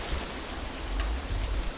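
Steady rain pours outside a bamboo hut on a hilltop, a dense continuous wash of broadband noise with a low rumble beneath, no voices present.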